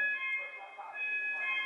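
A shrill electronic alarm beeps steadily on a stopped fairground ride, its high tones running through the whole moment under crowd noise and nearby voices.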